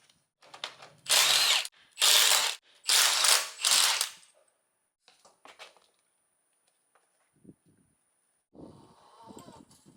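Three loud bursts of rapid ratcheting come close up as a wheel is taken off a Toyota Tundra, followed by scattered small clinks and handling noises in a quiet garage.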